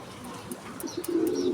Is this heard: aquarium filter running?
no